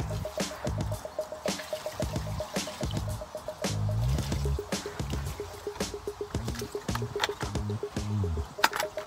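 Water pours and drips onto soil around a newly planted climbing rose in uneven splashes and trickles, close by, with a faint steady tone running underneath.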